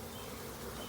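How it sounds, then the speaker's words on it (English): Honey bees buzzing in a dense mass as a package of bees is dumped into a hive, a steady, close, continuous drone filling the whole moment with no voices. "I'm going to dump the bees in there. They're like a big mass."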